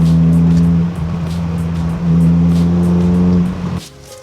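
Engine hum of a Honda Civic Si with VTEC cruising with windows down, a close, steady low drone with slight pitch shifts before easing off near the end.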